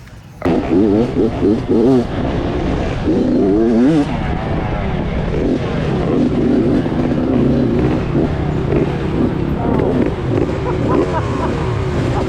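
Off-road vehicles launch on a dusty trail race, engines revving hard and roaring close by with rising and falling pitch throughout, while people talk intermittently over the noise.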